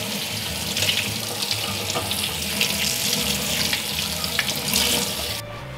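Tap water runs into a sink, rinsing cold smoked salmon, a steady close splashing rush that cuts off abruptly at the end.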